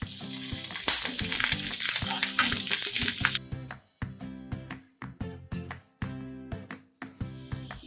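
Sliced shallots, dry red chillies and curry leaves fry in hot oil in a pan for a Kerala jackfruit erissery, a loud dense sizzle for about three seconds that cuts off into sparse clicks and clatters of stirring.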